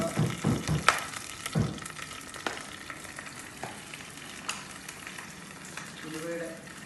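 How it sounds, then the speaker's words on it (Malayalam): Mustard seeds, green chillies and curry leaves sautéing in a pan for mango pulissery, a steady sizzle with a few sharp pops and clatters of stirring near the start, fading to a softer frying hiss. "കടുക്, പച്ചമുളക്, കറിവേപ്പില ഒന്ന് വഴറ്റിയെടുക്കുക"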